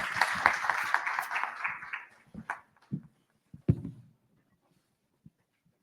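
A church congregation at a Sunday service claps to welcome Pastor Imran: a dense round of applause that thins after about two seconds into a few scattered claps, then fades to silence.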